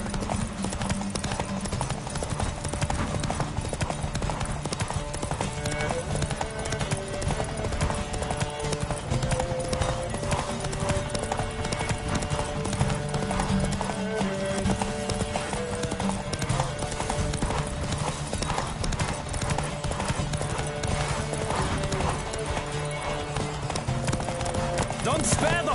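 Galloping horse hooves in The Witcher 3 race a steady, rapid clip-clop under continuous game music and sound effects for the whole stretch, with voices calling out now and then.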